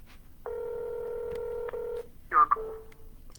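Telephone keypad tones: one long steady dial tone, then a couple of quick touch-tone beeps, clear and alone in a quiet room.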